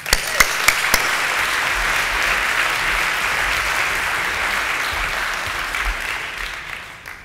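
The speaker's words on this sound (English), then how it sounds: "So please give her a warm round of applause." Audience applause at a conference closing ceremony: a few sharp claps at first, then a steady wash of clapping from a large crowd that fades near the end.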